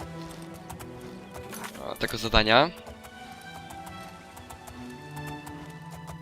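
A horse in the video game The Elder Scrolls IV: Oblivion clip-clops along and gives a short, loud whinny partway through, with someone talking over it throughout.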